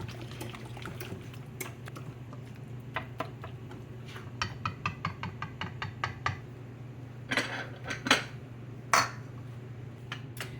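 Deviled crab filling is mixed in a bowl with a spoon, making soft wet squelches and a run of quick light taps and scrapes against the bowl over a low steady hum, close and without talk.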